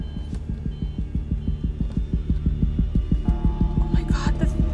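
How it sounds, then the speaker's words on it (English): A steady, rapid low thumping like a pounding heartbeat, pulsing evenly throughout under a faint hum, with a brief higher rustle near the end. "Heart pounding sounds."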